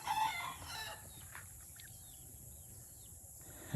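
A rooster crows faintly and at a distance on a farm in the first second, then only quiet outdoor background remains.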